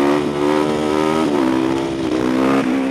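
A motorcycle runs steadily through a parking lot while attempting a wheelie, its engine droning loud and close with a slight rise and dip in pitch, and no talking.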